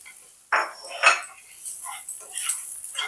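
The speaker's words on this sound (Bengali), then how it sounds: "এবার সমস্ত মশলাটাকে একটু নাড়াচাড়া করে নেব।" Masala being stirred in a pan for soybean kofta curry, with soaked raisins added: close, intermittent scraping and clinking of a spoon against the pan, in several short bursts with no talking.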